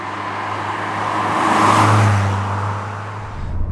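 A Renault Clio Williams engine revs up to a swelling, whirring peak around the middle, then eases back, a close and loud steady drone with no talking.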